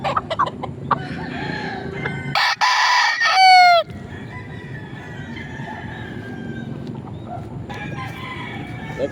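A young stag gamecock crowing loudly and close, with a drawn-out cock-a-doodle-doo in the middle and bursts of clucking before and after, over a backyard background.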